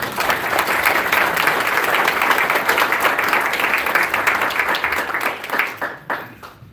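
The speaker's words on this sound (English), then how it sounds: "Everybody, give a round of applause." A room full of people at a school district meeting breaks into loud, sustained clapping that stays dense for several seconds, then thins into scattered claps at the end.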